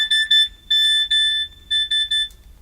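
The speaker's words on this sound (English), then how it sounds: "it's a bit of an old school ringtone" Bright electronic beeps in quick short bursts, grouped in a repeating pattern like an old SMS text message ringtone, loud and close.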